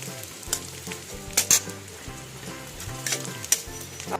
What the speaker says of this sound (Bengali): এখানে আদা আর রসুনটা ফ্রাই হয়ে গেছে